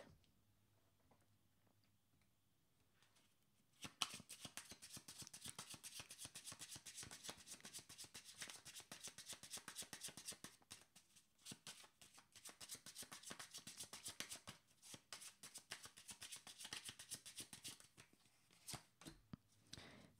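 Tarot cards are shuffled by hand, starting after a few quiet seconds and continuing as a steady, soft, close rustle with fine papery flicks until the end.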